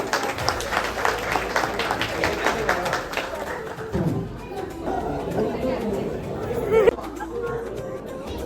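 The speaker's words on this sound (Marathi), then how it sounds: "जोरात टाळ्या." A family gathering breaks into loud, rapid clapping for a few seconds, close and dense, then fades into crowd chatter and overlapping voices.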